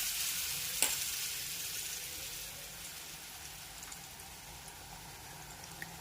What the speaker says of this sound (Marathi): तेलावर ते सोडून घ्यायचे आपल्याला.